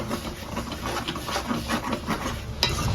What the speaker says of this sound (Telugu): ఇప్పుడు ఒకసారి మిక్స్ చేసుకోవాలి